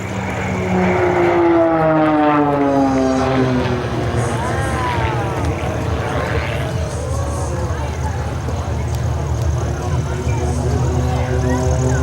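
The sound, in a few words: Marksman team aircraft close aerobatic flying at airshow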